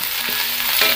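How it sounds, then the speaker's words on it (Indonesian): Ground spice paste for nasi goreng petai kunyit sizzling as it is stir-fried in a pan, a close, steady, crackling fry with faint scraping from stirring. "Kita tumis bumbu yang udah dihalusin sampai harum."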